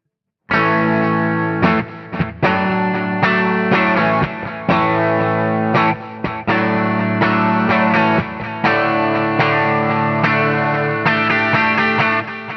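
Distorted electric guitar through THU Overloud amp simulator software, mixing a dark Fender-style amp and Plexi drive, plays loud, sustained chords and riffs with a heavily processed tone, continuous from start to finish with no talking.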